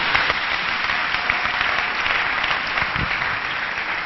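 A church congregation applauds together in steady, dense clapping that stays loud and unbroken from start to finish.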